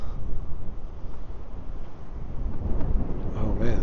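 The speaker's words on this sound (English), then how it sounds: "that wind's really picking up" Strong wind rushes through winter trees in the East Tennessee mountains as a loud, steady low roar with gusting buffets, and someone speaks briefly over it.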